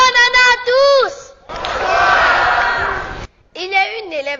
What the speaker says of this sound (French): Mesdames, messieurs, tonnerre d'applaudissements encore pour Malika